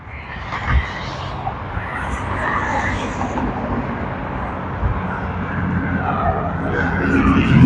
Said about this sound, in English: You got some noisy tires